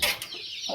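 A hen clucks briefly among newly hatched Aseel chicks on a poultry farm, with a couple of short, close calls over faint high peeping.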